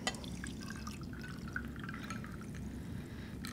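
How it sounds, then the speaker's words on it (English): A non-alcoholic basil and cucumber cocktail poured over a little ice: quiet liquid trickling and dripping with faint glassy ticks, close but low in level, no voices. "Pour it over a little bit of ice."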